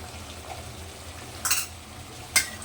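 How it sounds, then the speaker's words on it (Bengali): Ghee added to a sizzling prawn curry in a pan, a soft steady sizzle with two short bursts of stirring or scraping, close and quiet, no talk. "এখন আমি এইটাতে ঘি দেবো টেস্টের জন্যে, একটু ঘি দিয়ে দিচ্ছি।"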